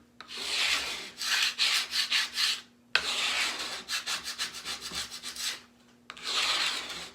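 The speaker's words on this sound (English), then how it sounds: "we're going to take this paste scraper and I'm going to scrape the paste up off of this surface" Paste scraper dragged across a surface to lift off wet chalk paste, giving a series of close, rasping scrapes in quick rhythmic strokes, with two brief pauses between bursts.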